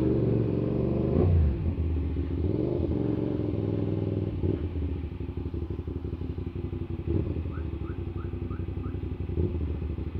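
CFMoto 675SR-R sportbike engine idling and puttering nearby, a steady low rumble with occasional revs and a faint clatter, no talking.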